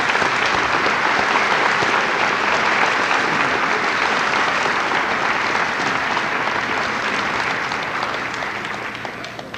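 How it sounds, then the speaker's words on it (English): Sustained applause from a crowd honoring parents at a 1991 high school commencement ceremony, loud dense clapping lasting about ten seconds and easing slightly toward the end. "Could we have an applause for the parents tonight?"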